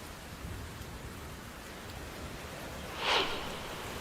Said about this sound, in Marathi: मुसळधार पाऊस आणि खवळलेला समुद्र